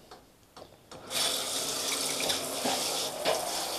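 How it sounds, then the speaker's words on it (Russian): A shower head rinsing salt off pieces of salted red fish for balyk: a steady, close hiss of running water starts after about a second of faint handling sounds and keeps going with slight splashing changes. "Смываем просто вот так вот под душем"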